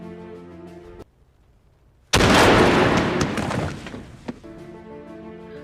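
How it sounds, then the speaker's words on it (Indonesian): A sniper rifle headshot in the World War II film Enemy at the Gates, a sudden loud sharp blast after a brief hush that decays into a long rumbling tail, with quieter tones before and after. "Dan Vasily langsung menembak headshot Mayor Koenig."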